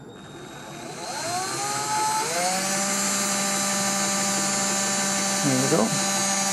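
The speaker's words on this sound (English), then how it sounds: "So if I now operate the drill and watch what the speed comes out as" An electric drill motor whines up to speed and holds a steady tone, with a second brief speed change near the end; someone speaks a few words over it.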